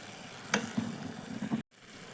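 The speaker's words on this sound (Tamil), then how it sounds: "எல்லா காயும் சேர்த்து வதங்கிட்டுருக்கு." Mixed vegetables sautéing in a pan with asafoetida for kadamba sambar, giving a faint, steady sizzle broken by a few soft stirring scrapes before cutting to silence.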